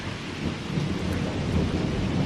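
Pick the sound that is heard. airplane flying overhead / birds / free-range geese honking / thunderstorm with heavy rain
thunderstorm with heavy rain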